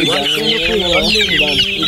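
A chicken clucks loudly and close by in a run of short, rapid, throaty clucks with a few higher squawking notes, continuing without a break.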